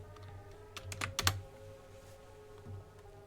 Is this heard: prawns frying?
no